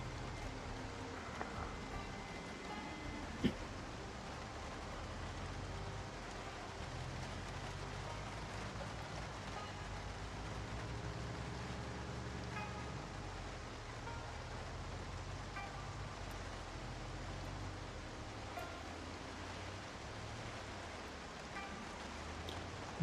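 Rain falls steadily in the zombie survival game Project Zomboid, a constant hiss of drops on surfaces with no pauses and one brief knock partway through.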